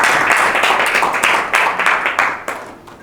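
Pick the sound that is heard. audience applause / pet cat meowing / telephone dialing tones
audience applause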